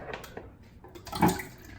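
Canned liquid poured into a bowl while making chocolate pudding: a short, wet splashing pour that swells to a peak mid-way, moderately loud, with no talking.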